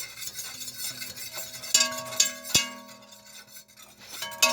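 Chuck roast drippings stirred into a roux in a pan, a spoon scraping and clinking against the metal with a few sharp knocks amid soft sizzling, close and without speech.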